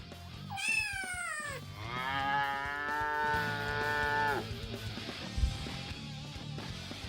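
A cat's meow rises and falls, then a long, low cow moo follows, both close and clear against faint background noise.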